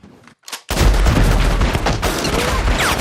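Gunfire from a film shootout in Django Unchained: a couple of faint sounds, then a sudden loud, sustained barrage of overlapping shots and booms that continues without a break.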